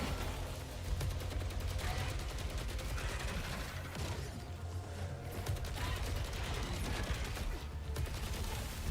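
Rapid gunfire from a player's weapon in a shooter game, dense repeated shots rattling continuously with brief lulls, mixed with mechanical clatter and busy game noise.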